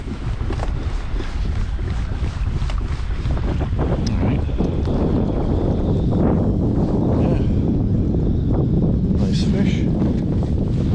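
Wind buffets the microphone on a fishing boat out on the water for smallmouth bass, a constant low rumble with gusty surges and occasional splashes and knocks, while someone talks over it.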